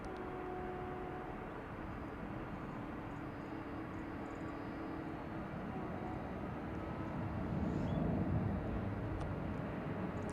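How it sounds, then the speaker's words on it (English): A Martin Air airplane departs a runway at DFW International Airport, its jet roar distant and steady before swelling slightly toward the end, with no talking. "Martin Air flight peeling off onto its vector."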